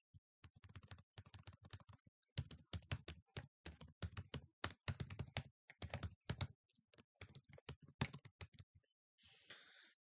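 Fast bursts of computer keyboard typing while entering a C program's conditional statements, crisp clustered keystrokes with short pauses between runs, close and alone, ending in a brief softer rustle.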